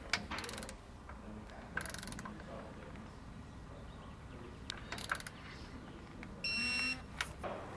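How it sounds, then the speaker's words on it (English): A wrench tightens bolts on a Roadmaster rear anti-sway bar being installed on a 2020 Thor RV, giving short bursts of close ratcheting clicks separated by pauses, with a brief steady tone near the end. "there's a little slot on the side you should be able to go in to get your wrench in there"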